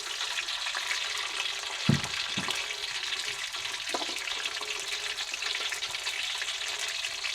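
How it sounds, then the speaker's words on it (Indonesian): Garlic, onion and candlenut spice paste sizzles steadily in hot oil for a chili sambal, with a few stirring clatters from the pan; no voices. "Kita goreng dulu bumbu bawang ini."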